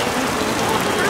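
Heavy rain pours steadily in Bangladesh, a dense, loud, even hiss of falling water heard up close while people shelter from it.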